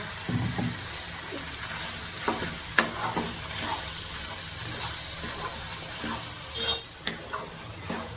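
Mushroom gravy sautéing in a pan after water is added, with a steady close sizzle broken by repeated scraping stirring strokes and no talking.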